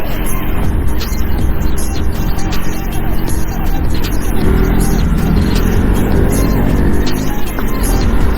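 Overtaking a truck on a forest road: continuous loud engine and road rumble with heavy wind buffeting, swelling in the middle as the vehicles draw level and then easing slightly.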